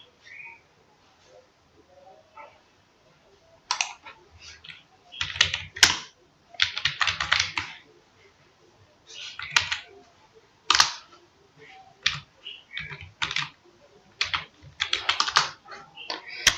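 Numbers keyed in on a computer keyboard during a C programming session, heard as bursts of quick, close keystrokes separated by short pauses, with no talking.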